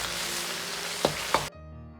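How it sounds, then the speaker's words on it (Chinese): Pork belly stir-fries in hot oil in a wok with a dense, close sizzle. Two sharp scrape-clanks of a spatula break through before the sound cuts off abruptly to near silence. "把五花肉稍微多煸炒下，"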